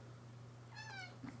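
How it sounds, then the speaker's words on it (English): A single short, rising-then-falling cat meow, fairly soft and close, over a faint steady hum with a brief low sound just after. "Meow."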